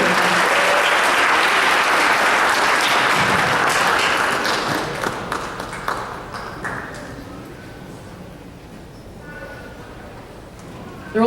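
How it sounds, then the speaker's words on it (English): Audience applause for School 3 at a Belleville Board of Education meeting, a dense wash of clapping that swells for several seconds, then thins into scattered claps and fades near the end. "One more round of applause for School 3."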